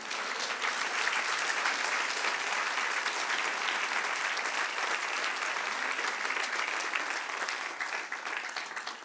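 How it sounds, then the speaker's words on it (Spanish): Steady, dense applause from a large church congregation during a sermon, loud and sustained throughout without a break, tapering slightly at the very end. "Denle un aplauso al que reina."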